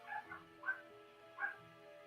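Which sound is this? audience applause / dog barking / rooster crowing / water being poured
dog barking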